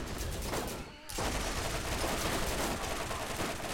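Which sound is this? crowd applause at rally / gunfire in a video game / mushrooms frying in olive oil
gunfire in a video game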